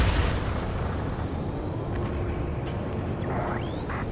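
A constant, loud roar from jets and combat fills a city under martial law in Ace Combat 7, a dense rumbling wash that swells slightly at the start and holds steady, with no separate voices.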